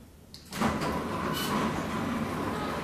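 A door driven by a remote control slides shut, starting with a short click and then becoming a steady mechanical rumble that runs on for a couple of seconds.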